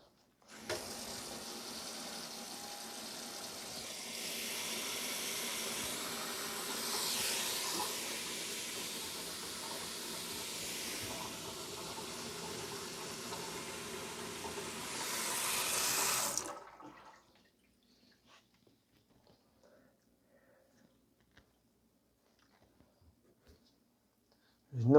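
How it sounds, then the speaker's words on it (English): Water runs steadily from a kitchen sink tap, checked for leaks after a drain pipe repair, a broad continuous rush for about sixteen seconds that then shuts off abruptly, leaving near silence with a few faint ticks. "We are gonna open up the tap and see if there's any leaks."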